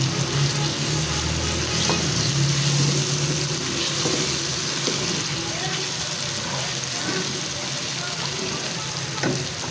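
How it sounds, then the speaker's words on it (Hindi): Water is sprinkled onto frying masala for chicken nihari; steady loud sizzling and frying fills the whole stretch, with small splashes and scraping stirs crackling close by. "थोड़ा सा पानी का छट्टा लगाते हैं ताकि ये नीचे ना लगे"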